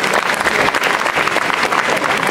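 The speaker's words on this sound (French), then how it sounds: "Vous pouvez les applaudir." The audience gives the Miss Guinée-France pageant candidates a full, continuous round of applause, a dense roar of many hands clapping with a faint crowd murmur.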